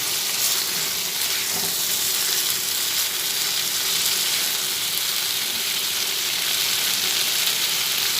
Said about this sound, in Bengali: এভাবে ভালোভাবে কষিয়ে নিচ্ছি কষিয়ে নিতে নিতে ওর মধ্যে থেকে তেল ঝরে আসছে